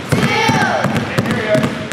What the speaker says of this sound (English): So go ahead and start dribbling right-handed.